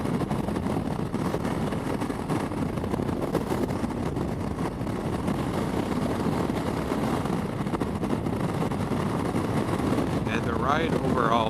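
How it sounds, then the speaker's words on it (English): Loud, constant wind buffets the microphone while riding a Yamaha Tenere 700 motorcycle fitted with a Barnett clutch, a dense roaring rush that stays steady throughout and swamps all other sound. "geez, it's windy."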